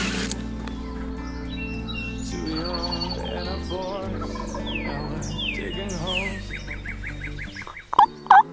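Wild turkey toms gobbling in the Midwest at morning, repeated rattling gobbles, some overlapping and others sounding farther off, with a couple of sharp loud calls near the end.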